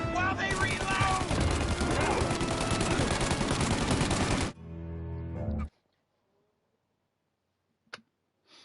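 Dense, sustained gunfire rattles loudly through a Mafia Definitive Edition shootout for several seconds, then drops to a lower rumble and cuts out into near silence with a couple of faint clicks.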